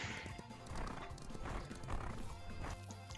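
Horse foal whinnying in the ranch video game The Ranch of Rivershine, a clear neigh over hoof clip-clops and busy game ambience, with several calls across the clip.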